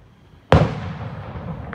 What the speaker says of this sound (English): people over here in the subdivision that's setting off some of their fireworks. Man, you can hear them.